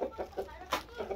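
Chickens in a farmyard clucking while being fed, several short soft clucks in a loose rhythm, close by and moderately quiet.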